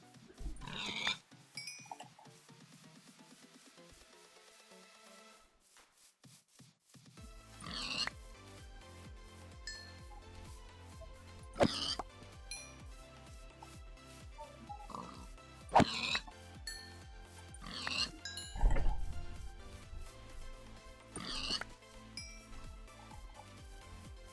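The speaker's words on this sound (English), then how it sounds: "There's a pig. We just do more pigs." Repeated blocky Minecraft pig oinks pop up every few seconds over a steady background of looping music and ambient tones.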